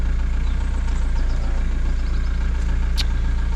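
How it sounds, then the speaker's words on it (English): A Ford Transit van's diesel engine runs at a steady idle, with a constant low rhythmic throb that is close and loud, and a brief faint high chirp near the end. "So now the engine is running"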